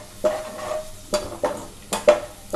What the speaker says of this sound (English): We have to fry the fenugreek leaves till they releases their